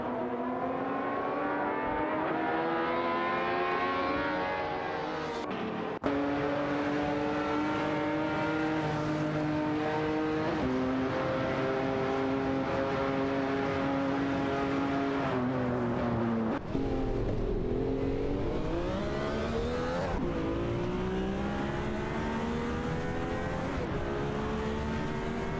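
Race cars from a racing video game, including a Chevrolet Camaro and a Ferrari, hold a loud, continuous engine drone with shifting pitch sweeps and sudden gear-change drops, running steadily throughout with no talk.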